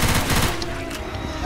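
Gunfire in the zombie co-op shooter Left 4 Dead 2, a loud rapid series of shots packed close together at the start, then thinner scattered reports over steady game noise.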